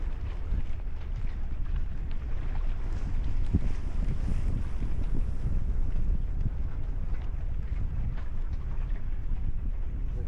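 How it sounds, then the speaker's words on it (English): Steady wind gusting across a microphone aboard a sailboat on open water, a continuous low rumbling roar with hiss and faint water movement, no voices. "Gust."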